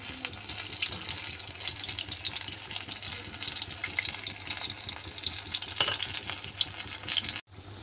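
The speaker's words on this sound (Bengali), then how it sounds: "এগুলো ভাজা হয়ে আসছে, এখন এগুলোরে তুলে ফেলবো।" Pitha batter fries steadily in hot oil for bara pitha, a close, continuous sizzle and bubbling with soft crackles throughout, cutting off abruptly near the end.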